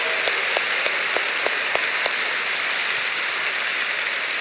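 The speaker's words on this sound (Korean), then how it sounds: "우리 연세 드신 분을 위해서 우리 박수 한번 칩시다" A church congregation applauds together at a Friday night worship service, steady dense clapping filling the room, with a few sharper individual claps standing out near the start.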